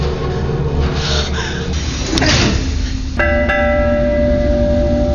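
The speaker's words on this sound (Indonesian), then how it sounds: "dia membunyikan lonceng untuk merespon panggilan agar trim itu dapat bergerak" A bell rings out with a clear, sustained metallic tone that lingers and hums after a couple of strikes, over a low background rumble.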